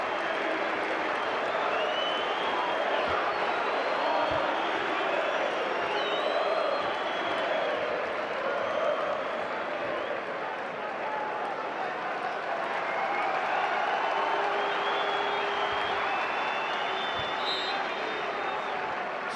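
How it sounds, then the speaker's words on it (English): Travelling Yorkshire football supporters at an away match applaud a player leaving the pitch as a substitute, a steady wash of distant crowd clapping and stadium noise that holds level for the whole stretch. "It's a great round of applause from the travelling supporters from Yorkshire and from his manager too."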